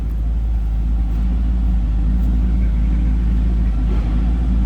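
A 1940 LaSalle Series 52 coupe's engine idles steadily from behind the car, a deep continuous low rumble with an even throb and no pauses.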